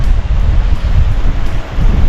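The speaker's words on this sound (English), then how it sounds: "There's quite a strong wind blowing." Strong gusty wind roars across an exposed campsite beside a choppy lake, a loud continuous low rumble of buffeting that swells and dips with the gusts, with no voices.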